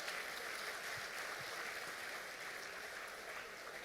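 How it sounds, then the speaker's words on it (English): Distant, fairly faint applause from a crowd at a birthday celebration honouring a late king, a steady even patter of many hands lasting several seconds. "Let's give them a round of applause."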